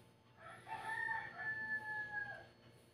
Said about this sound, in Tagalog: Bisayang manok.